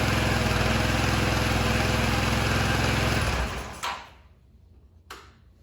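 A Honda Elite 150 scooter engine runs in a shed right after its first start, a loud, steady high-revving buzz that cuts off after about three seconds, followed by quiet and two brief knocks.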